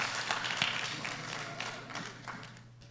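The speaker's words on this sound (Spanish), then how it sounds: "Esos aplausos lo deprimen a uno" Sparse, scattered clapping from a church congregation, a few hands tapping unevenly at low volume and fading out toward the end.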